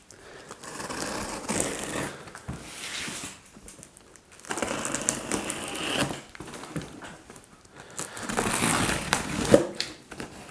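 A mystery box of books is torn open: cardboard and paper crinkle, crunch and rustle in several bursts with quiet gaps between, close and fairly faint.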